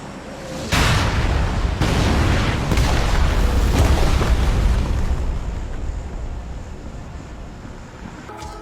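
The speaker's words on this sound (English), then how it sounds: "Constantly, loud sirens and loud bomb noises occupy the sound table of the map as buildings are blasted to oblivion inside the so-called dark zones." Heavy bomb blasts rumble through a dark zone on a PUBG map as buildings are destroyed, a loud, deep, continuous roar with several booming surges that slowly fades toward a quieter tail.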